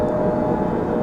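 Boeing 757 jet engines spooling up for takeoff in Microsoft Flight Simulator X, a steady, loud, dense low roar that holds evenly throughout with no talking.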